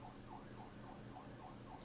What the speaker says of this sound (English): The Dalek siren.